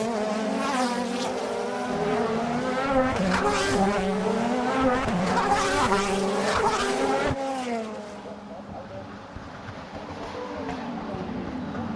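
A 2010 DTM touring race car at the Norisring howls at high revs, then its engine note steps down through rapid downshifts while braking for a hairpin, loud and close, with a commentator talking over it.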